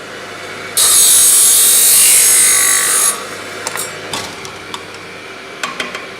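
A golf club shaft being cut to 43 inches in a workshop: a loud, steady grinding cut runs for about two seconds, then stops, followed by a few light taps and clicks.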